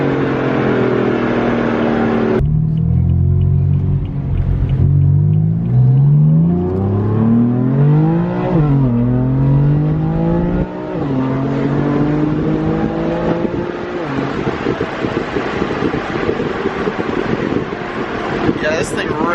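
A boosted Ford Mustang pulls hard in third gear, its engine roaring loudly and climbing in pitch through a rising sweep before a shift. Wind noise and excited voices run under the sustained drone.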